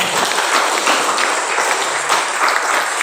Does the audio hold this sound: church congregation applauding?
yes